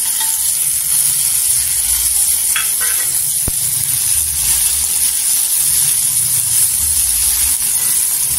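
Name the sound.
tomato added to a hot pan, sizzling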